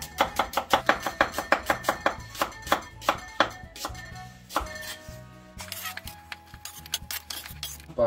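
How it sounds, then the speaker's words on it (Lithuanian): A knife chops an onion on a cutting board in a rapid, steady run of sharp close thuds that slows and thins out partway, leaving scattered clinks and light taps. "Kol mėsa marinuojasi, susipjaustykim"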